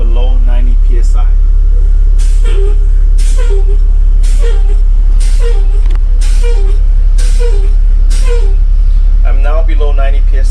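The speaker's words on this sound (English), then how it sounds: "I need to fan my service brake to below 90 psi." Truck air brakes are fanned repeatedly during a CDL pre-trip inspection to drop the air pressure, giving sharp hissing bursts at a regular pace over a loud, constant engine rumble, close by.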